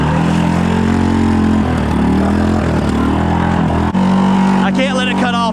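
Engine of a Honda 6X6 four-wheeler with a broken gearbox runs steadily and loudly throughout, a constant low drone with a brief dip near the end, and a voice breaks in over it.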